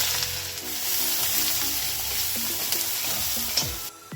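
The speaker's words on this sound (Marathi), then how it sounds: "2 चमचे तेल घालून घेऊया। मोहरी, जिरे, 2 बारीक चिरलेले कांदे," Mustard seeds, cumin and finely chopped onions fry in hot oil for a potato curry, giving a continuous hissing sizzle with scattered pops and spatula scrapes, close and unaccompanied by talk.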